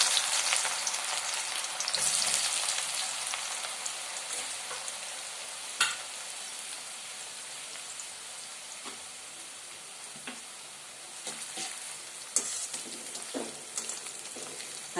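Two thinly sliced onions fry in oil in a kadai with a steady, close sizzling hiss that runs throughout, with occasional sharp pops and crackles and no talking.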